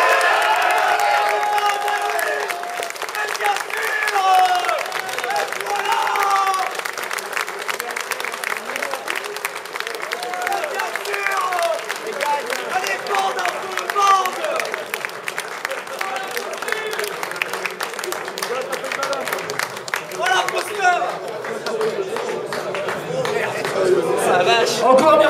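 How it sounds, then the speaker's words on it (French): An audience at a bowling tournament awards ceremony claps for the MVP, sustained applause from a sizeable crowd with scattered cheers, lasting the full stretch with a little chatter mixed in. "les derniers applaudissements seront pour le MVP du tournoi, le premier individuel au classement général."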